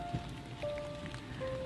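Steady rain pattering on a surface, a continuous close wash of drops with faint tonal hum in the background.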